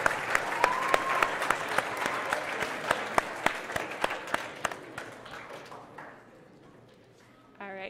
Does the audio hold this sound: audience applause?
yes